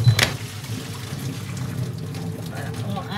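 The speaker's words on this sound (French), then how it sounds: "On va jeter l'eau." Blanching water poured out of a cooking pot, a steady watery gush lasting about three seconds, opening with a sharper splash and then running on evenly at close range.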